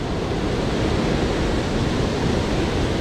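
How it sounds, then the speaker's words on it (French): Sea waves break continuously on a rocky coast during shore fishing for sea bass with lures, a loud steady roar of surf and spray with no pauses and no voices. "Faut aller vite là, avec les vagues."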